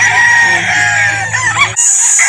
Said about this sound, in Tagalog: maraming manok din po dito